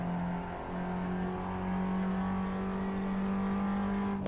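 A Toyota 86 engine in the Assetto Corsa driving game holds a steady, sustained revving drone with a strong tonal hum, moderately loud and unbroken, with no voices.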